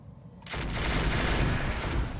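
An incendiary-ammo weapon fires volleys in a video game, a sudden dense roar of rapid overlapping bursts that starts abruptly and keeps up loud and steady.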